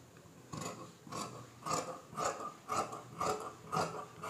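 Scissors cutting cloth for gent's trousers, a series of about seven rhythmic crisp snips and rasps, close and fairly quiet, with no talk.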